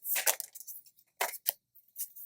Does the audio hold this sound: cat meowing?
no